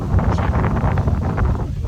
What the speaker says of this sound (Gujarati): ટાટો પવન ને વરસાદ આવી ગયો પાછો